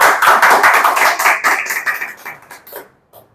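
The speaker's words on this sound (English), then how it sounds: "Come on, रौनक के लिए जोरदार clapping करेंगे" Group of people clapping for a student at a public-speaking practice session, a dense burst of applause that thins out and fades to scattered claps by the end.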